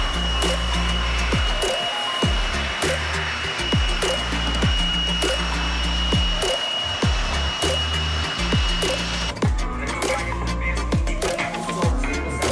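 An air blower dries a motorbike at a bike wash, a loud, steady, close whooshing roar with a high whine and scattered knocks and clicks throughout.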